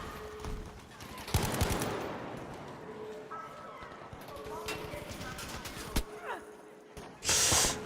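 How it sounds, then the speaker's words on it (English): Muffled, suppressed gunfire in Battlefield V: scattered sharp shots and short bursts at moderate distance, heard beneath ongoing talk. "The gun sound is too suppressed."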